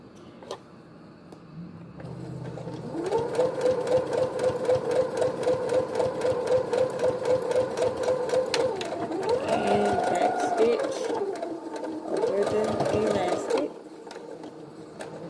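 A sewing machine stitches a fabric face mask, its steady rapid needle clatter running close and loud for long stretches, pausing briefly and starting again, with a voice talking over parts of it.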